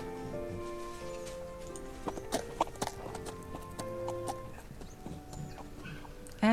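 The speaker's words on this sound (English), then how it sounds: "Get on our horse and go over and see Kitty." A horse in the Miss Clue video game, with rhythmic clip-clop hoofbeats and a whinny set against light game music, fairly quiet and close, with no talking.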